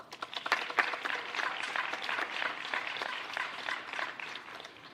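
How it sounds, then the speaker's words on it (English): Audience applause for six scholarship finalists at a scholarship announcement: steady clapping from a moderate-sized group, moderately loud and sustained for the whole stretch without voices. "Please join with me in applauding these 6 finalists who were already so impressive."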